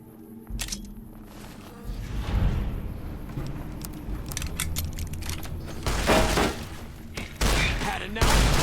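Shotgun fire in the video game Fallout: New Vegas, several heavy blasts and thuds spread across a short stretch of noisy combat, loud and close.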